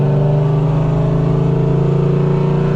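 An 850hp Chevrolet Camaro ZL1 pulls hard through its gears, a loud, close, continuous engine roar with a dense, even drone and no break across the short stretch.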